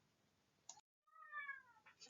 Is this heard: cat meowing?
yes